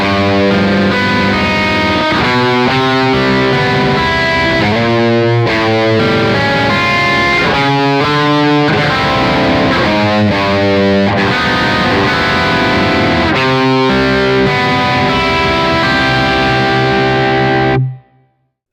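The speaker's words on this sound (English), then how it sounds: "you can play even so-called jazz chords like minor 7/9 or major 7 with a high amount" Electric guitar played through a Kemper amp profile with heavy distortion, strumming rich jazz-style chords such as minor and major sevenths, each chord ringing loud and sustained in a rhythmic sequence before fading to silence at the end.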